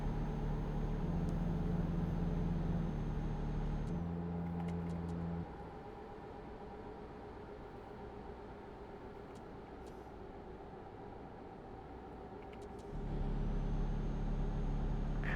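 A Mercedes truck engine in a truck driving game drones steadily with a low hum, dropping to a quieter idle-like tone midway before the louder engine note returns near the end, with no talking.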